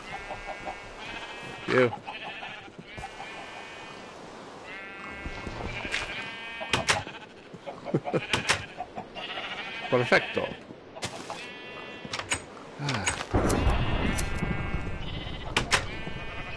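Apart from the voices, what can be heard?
sheep bleating in Minecraft, a video game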